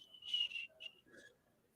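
A short whistled melody from the Robin Hood (1973) animated film soundtrack, a few clear bright notes heard faintly and alone, fading out within two seconds.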